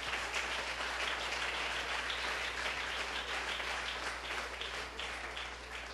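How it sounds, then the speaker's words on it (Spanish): Applause from a church congregation during a sermon on the strong man, a dense, steady wash of many hands clapping at even loudness throughout over a low hum, no voices standing out. "Vamos, aplauda"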